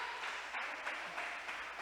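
A church congregation claps together during a worship service, a steady wash of hand claps heard at a distance and fairly faint, without talk over it.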